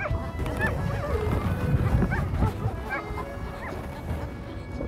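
Sled dogs bark and yip in a busy, overlapping chorus while pulling a sled across rough ocean ice, with excited yelps close by and a voice or two mixed in underneath.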